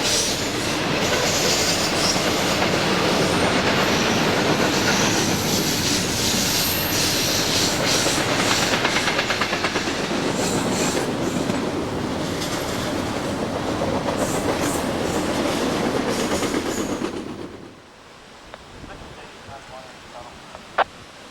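A freight train carrying merchandise and containers rumbles past loudly and steadily in Pennsylvania with rattling wheels and clanking cars, then cuts off abruptly to near quiet as the last car clears.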